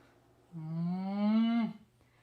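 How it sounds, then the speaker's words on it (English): A toy cow gives a single drawn-out mechanical moo, slightly rising in pitch, playing clearly on its own for about a second. "this one just sounds like a cow."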